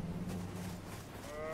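A sheep bleats in the video game Elden Ring, a brief low, wavering call over a dull background rumble, with a higher tonal sound rising near the end.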